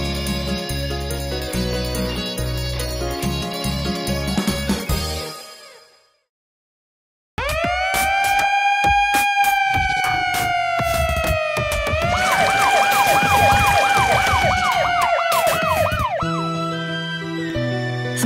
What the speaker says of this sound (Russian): Смотрите, это Блейз, пожарная машина!